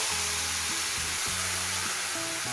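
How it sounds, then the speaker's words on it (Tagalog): Homemade breadcrumbs are stirred with fresh milk in a hot pan, giving a steady, dense sizzle and hiss throughout, with background music playing underneath. "para mag-moist ang ating breadcrumbs at patuloy itong haluin"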